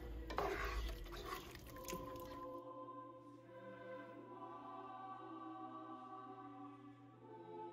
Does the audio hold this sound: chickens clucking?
no